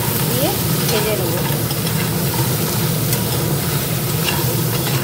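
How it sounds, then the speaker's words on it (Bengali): Sundarban crabs frying in oil with salt and turmeric, a dense, constant sizzle close by with stirring noise underneath, steady and loud throughout. "কাঁকড়া দিয়ে দিয়েছি, তেলের উপরে কাঁকড়া দিয়ে একটু নুন আর হলুদ দিয়ে ভেজে নেব।"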